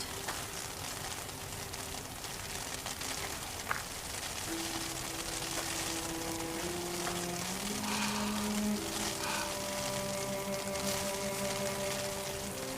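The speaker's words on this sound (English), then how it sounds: "It's raining hard." Heavy rain falls in a steady, hissing wash, with sustained tonal music layered above it throughout.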